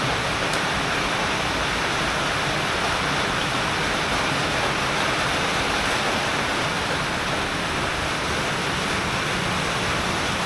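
Rainwater drips and runs down the side of a stacked structure after a downpour, a steady, dense wash of splashing water that stays loud and unbroken throughout with no voices.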